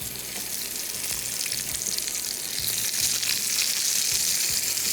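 Afghani kebab sticks sizzle steadily in a grill pan, a continuous close hiss of frying with faint clinks and shuffles of the skewers being placed, and no talking.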